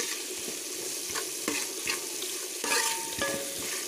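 Onions, curry leaves and fenugreek sautéing in a pan for beef ularthiyathu, a steady close sizzle broken by repeated scraping stirs of the spatula, with no voices.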